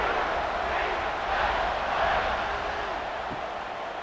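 A college football stadium crowd at kickoff, Vanderbilt at UCF, makes a dense, steady roar of distant voices that swells slightly in the middle, with no single voice standing out.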